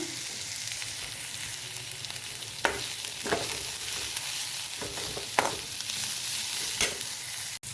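Shredded cabbage sautés with salt in a pan for Kerala cabbage upperi, giving a continuous close sizzle broken by several sharp stirring scrapes at irregular intervals.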